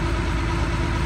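A Claas Dominator 58 Special combine harvester with 1,569 engine hours, imported from Germany, idles just after starting, giving a steady, even diesel rumble with no breaks.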